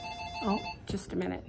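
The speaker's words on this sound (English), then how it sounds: "Sorry, that was the phone ringing." A telephone rings in a quiet home with a steady electronic trill in the background while someone talks over it briefly.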